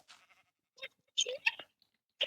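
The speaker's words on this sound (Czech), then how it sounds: "Ovce." Sheep in a video game bleat in a few short, separate bursts, crisp and close, with quiet gaps in between.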